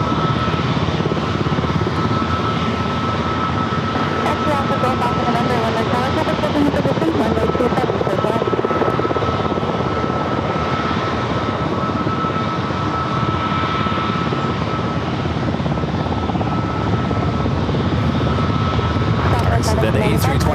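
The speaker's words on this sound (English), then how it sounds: "Up next is that Delta A321neo heading to JFK." A Delta Airbus A321neo jet at San Diego airport rumbles with a steady, loud engine roar that holds without a break, under a constant broadband whine.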